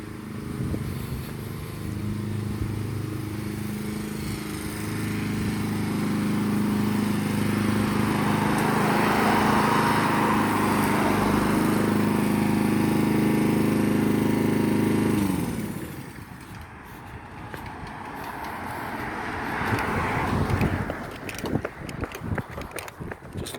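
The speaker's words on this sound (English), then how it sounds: "There's all the lawnmowers going." A lawn mower engine drones steadily and fairly loud, then fades off, leaving a quieter outdoor scene with some rustling and bumps.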